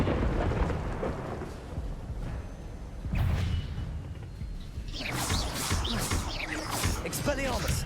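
A lightning bolt spell in Hogwarts Legacy lets loose a sharp thunderous crack followed by a broad, rolling rumble and crackle that swells loud toward the end, heard alone without speech.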